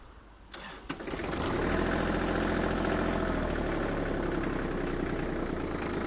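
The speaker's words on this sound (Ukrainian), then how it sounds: "Трактор завівся з пів оберту." A Kubota GL23 compact tractor's diesel engine cranks and catches, then settles into a steady, even idle that runs on alone and fairly loud.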